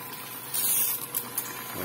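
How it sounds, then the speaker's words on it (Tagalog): An electric water pump on a car-wash power sprayer runs with a steady rushing hiss and hum, water noise surging briefly in the middle of a short burst. "ang lakas ng tubig na tumatagas dito no bumabalik dun sa bomba sa pinaka pump"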